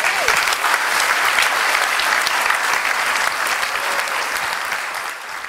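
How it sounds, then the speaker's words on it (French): Warm applause from a political council audience welcoming a politician, a dense, sustained roar of many clapping hands that holds steady and begins to thin toward the end. "Je vous prie d'accueillir dans des applaudissements chaleureux et distingués"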